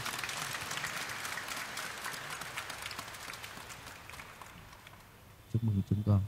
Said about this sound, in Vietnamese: chúng ta một tràng pháo tay chia sẻ niềm vui